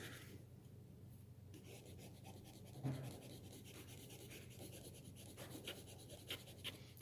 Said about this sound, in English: Gonna wear down my eraser